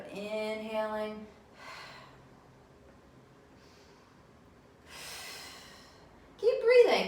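Breathy exhales and inhales during a beginner Pilates mat exercise, several soft airy puffs spaced apart, with a voice speaking at the start and end.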